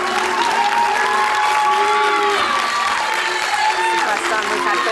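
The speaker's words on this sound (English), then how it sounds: "First time we've had booing in the studio" Studio audience at a live Big Brother eviction, a loud sustained crowd roar of booing and noise mixed with applause filling the room, with a voice calling over it.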